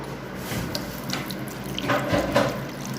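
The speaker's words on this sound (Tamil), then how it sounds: "அது கருவேப்பிலை நம்ம வாஷ் பண்ணிக்கலாம்" Curry leaves being rinsed under a running kitchen tap, giving a steady close hiss of flowing water with brief splashing surges as the leaves are moved in the stream.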